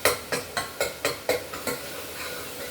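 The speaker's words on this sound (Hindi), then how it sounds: "इसमें प्याज डाल दिए हैं और सोयाबीन की बड़ी डाल दी है चावल में ना। ये अच्छी तरह से भून जाएगा" Onions and soya chunks fry with soaked rice in a pan, heard as a run of about eight soft, evenly spaced scraping strokes over a low sizzle, fairly quiet.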